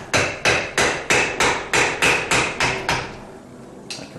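A screwdriver tapped with a hammer to free a U-joint on a 1976 Corvette half shaft, nine sharp, evenly spaced metallic strikes close by, then a short pause and one more tap.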